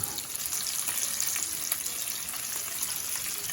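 Bacon sizzles and crackles steadily on a 17-inch Blackstone griddle, a continuous close hiss with tiny pops and no voices.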